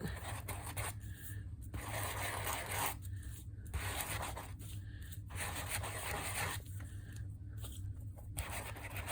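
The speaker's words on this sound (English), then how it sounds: "I'm going to take a sandpaper block, and I'm going to kind of just sand it just a bit." Sandpaper block rubbed over a craft piece in short back-and-forth strokes, with several bursts of close, gritty scraping separated by brief pauses.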